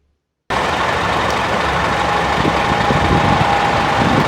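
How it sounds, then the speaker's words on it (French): Trucks idling in a parking lot, a steady, loud engine drone with a low rumble and constant hiss that starts abruptly after a brief silence and holds unchanged. "Multiplié par le nombre de camions qui tournent au ralenti aussi sur le parking"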